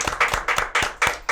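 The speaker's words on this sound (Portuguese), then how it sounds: "Mas vou pedir pra gente terminar com a salva de palmas" Sharp, close, rhythmic claps in a quick even pulse, about five or six bursts in under two seconds, a small group clapping together at the close of a podcast.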